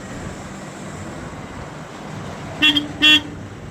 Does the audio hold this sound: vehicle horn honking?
yes